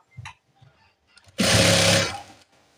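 A sewing machine stitches a folded edge on a nurse uniform top in one loud, steady burst of about a second, preceded by quiet handling noises of fabric.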